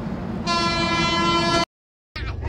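A train horn sounds outside Gosaiganj railway station, one sustained loud harmonic blast lasting about a second over steady rumbling, followed by a brief silent gap and renewed station noise.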